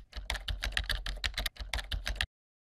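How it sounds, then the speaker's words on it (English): Rapid, steady typing on a computer keyboard, with dense clusters of key clicks close up for about two seconds and then stopping, with no talking. "you can just start typing"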